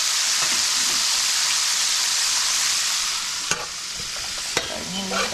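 Eggplant cooks in a pan with fried snapper and fresh garlic, giving a continuous close hissing sizzle. It eases slightly partway through, and two sharp utensil clicks stand out.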